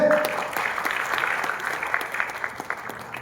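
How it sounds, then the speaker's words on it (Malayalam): An audience at a company family get-together claps together, a dense steady patter of many hands lasting a few seconds at moderate distance, with a brief voice at the start. "എല്ലാവരും ഒന്ന് കൈയടിച്ചേ."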